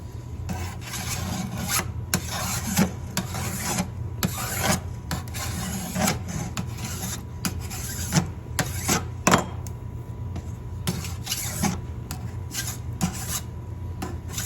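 A hand file scrapes a burr off the edge of a chainsaw guide bar in quick repeated rasping strokes, loud and close, with no voices.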